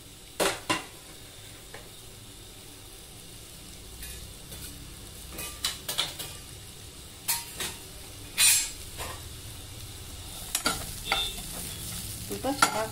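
Sliced onions and green chillies frying in a pan for a field-bean curry, with a continuous low sizzle broken by repeated sharp scrapes and clinks of a spoon stirring against the pan.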